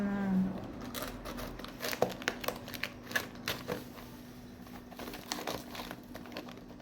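A package of matcha powder bought at a Korean shop is handled and opened, giving close, quiet, irregular crinkles and rustles of the wrapping over a faint steady hum, with no clear talk.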